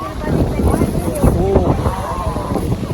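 Strong wind buffets the microphone on a hilltop viewpoint during a hike with friends, a steady roaring rumble that runs the whole time under close speech.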